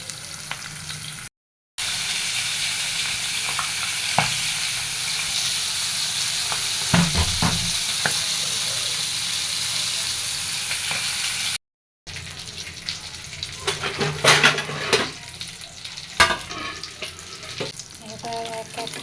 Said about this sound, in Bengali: তেল গরম হয়ে গেছে, এখন এর ভিতরে মাছগুলো সব দিয়ে দিলাম।